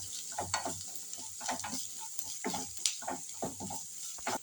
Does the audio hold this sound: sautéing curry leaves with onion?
yes